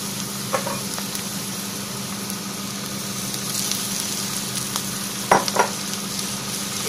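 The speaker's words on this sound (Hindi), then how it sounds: "इसे हम अच्छे से मिक्स कर लेंगे और अब ये फूलों की पंखुड़ियों को जो काटा है उसको डाल देंगे" Cut amaltas (Indian laburnum) flower petals frying with turmeric, chili powder and salt in a pan, a steady close sizzle with a few scraping stirs of a spoon against the pan.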